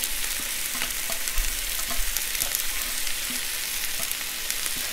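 Mixed vegetables such as bell peppers, carrots and snow peas stir frying in a hot pan, a steady dense sizzle with faint scraping stirs, continuous and close with no voices.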